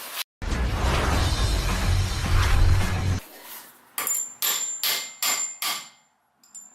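Several sharp metallic hammer strikes ring out in a steady rhythm after a burst of loud broadband noise, close and loud with no talking, while parting out a Subaru.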